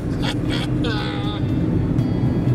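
A steady, low drone of airplane cabin noise during a flight to Queenstown, New Zealand, runs underneath someone talking close by.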